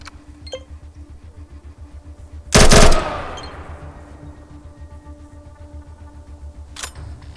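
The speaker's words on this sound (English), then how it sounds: "Some aimed shots with the unarmored head." Gunfire from pistols and SMGs in the RPG ATOM RPG: one sharp, loud burst of shots with a decaying tail, then a fainter crack later, over a low pulsing hum.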